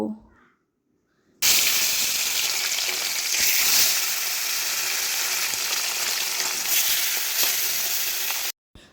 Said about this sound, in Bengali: প্রথমে এখানে আমি মাছগুলো ভালো করে নুন হলুদ মিশিয়ে একে একে ভেজে নেব